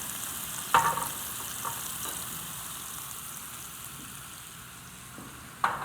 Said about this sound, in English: That's our pan, sear it up. Get it nice and charred.